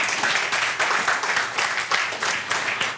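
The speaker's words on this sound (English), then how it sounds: "give yourself some applause" Applause from attendees at a water-machine sales training meeting, a fairly sparse room of clapping that pulses in uneven waves, moderately loud and close.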